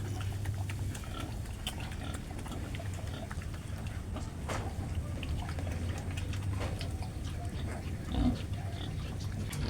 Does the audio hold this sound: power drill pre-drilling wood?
no